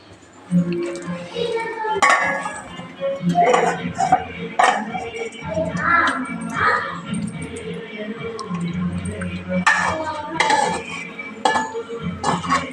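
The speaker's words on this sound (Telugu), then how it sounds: "ఇప్పుడు సర్వింగ్ బౌల్లోకి అయితే తీసుకునేద్దాం" Chicken curry is scooped from a pan into a serving bowl, with clinks and scrapes of a metal spoon against the pan and wet plops of the thick curry at close range.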